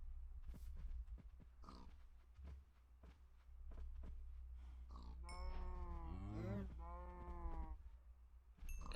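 Farm animals in Minecraft, with blocky bleating and grunting calls from pigs and other livestock, then a clear harmonic animal call near the end, all over steady game background noise.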